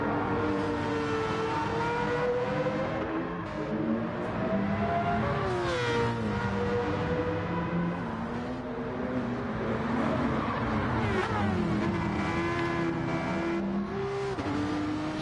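Race cars compete in a video game race during the Nations Cup Final. A steady, loud blend of high engine whine rises and falls with gear changes as several cars run close together, with no voices.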